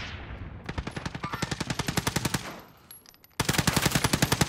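Machine gun fire in Call of Duty Warzone: a long, rapid, evenly spaced burst of loud shots, a short lull with quieter ambience, then another close, heavy burst.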